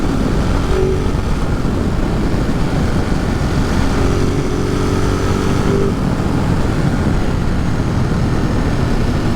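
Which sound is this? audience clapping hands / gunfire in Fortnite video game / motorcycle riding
motorcycle riding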